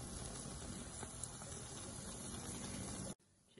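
Zalabia dough made with flour and anise frying in hot oil at a home Epiphany feast, a steady dense bubbling sizzle that runs evenly for about three seconds, then cuts off abruptly.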